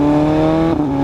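A car fitted with an SC Project CR-T exhaust revs hard, its steady loud engine note holding for about a second with a slight dip near the end.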